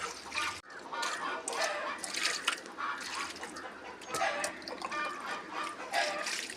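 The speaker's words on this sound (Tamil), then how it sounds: "இப்போ நம்ம இந்த மீனை கழுவ போகிறோம்." A fish is washed by hand in water, with continuous close sloshing and splashing broken by drips and swishes, steady and fairly loud throughout.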